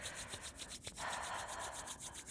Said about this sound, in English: Let's rub the hands together, get some heat going